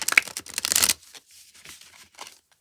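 Tarot cards are shuffled in a quick, crisp flurry of close riffling and flapping for about a second, followed by faint, sparse paper rustles.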